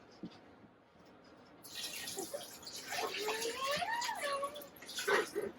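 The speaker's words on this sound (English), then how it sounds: "you just fill that full of water and you pour that into it, because for your Instant Pot, you've got to have water for the steam" Water being poured into an Instant Pot inside an RV kitchen, a gurgling splashing pour that starts partway through and runs at moderate level, with faint voices and background clatter.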